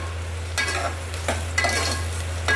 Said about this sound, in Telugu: ఉల్లిగడ్డ పచ్చిమిర్చి కట్ చేసి పెట్టుకున్నాం కదా అది వేసుకోవాలి మెల్లగా పైన ఆయిల్ పడుతుంది